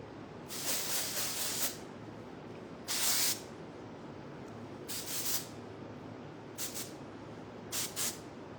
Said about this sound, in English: going in with some dry shampoo